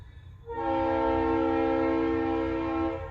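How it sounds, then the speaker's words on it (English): A train horn blares in one long, steady, loud blast over the low rumble of a passing train nearby. "The train's just going to get a little bit louder. It's right down the street."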